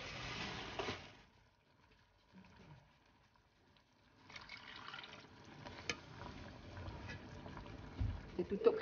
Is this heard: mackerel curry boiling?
yes